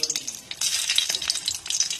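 A dried red chilli fries in hot mustard oil in a wok, giving a close, steady, crackling sizzle with sharp bursts of spitting and no talk.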